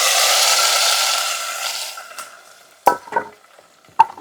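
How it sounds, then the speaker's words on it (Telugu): Moringa leaf dal is tipped into fried onions in a pan. A loud hiss fades as it settles, followed by a few sharp spoon scrapes and knocks against the pan, with no talking. "ఇప్పుడు ఈ పప్పు ఇందులో వేసుకుందాము"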